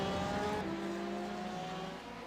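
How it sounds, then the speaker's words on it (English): The second-place TNST Ferrari race car roars past at Le Mans, its engine a steady loud drone that drops in pitch as it goes by. "being passed now by the 2nd place Ferrari, the TNST Ferrari"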